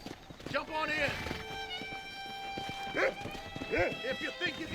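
Horses pulling a stagecoach in the Red Dead Redemption video game: steady clip-clop of hooves with a brief whinny, sitting under ongoing talk.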